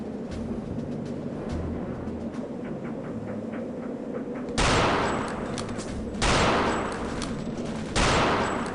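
Gunfire in the shooter game Return to Castle Wolfenstein: a few sharp, loud shots ring out over a steady low background drone, spaced a second or two apart near the end.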